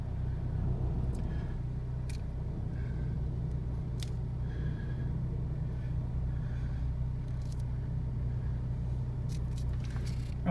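A Ford Fusion engine runs steadily at idle with a low, constant rumble and a faint vibration hum. It stays near and even throughout, with no voices, after all of its engine, transmission and torque strut mounts were replaced.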